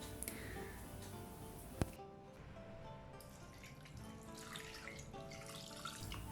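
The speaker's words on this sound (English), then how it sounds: "added 1 cup of water." Water pours steadily into a pot of spiced beef for a pressure-cooker recipe, a continuous splashing stream with one sharp clink partway through.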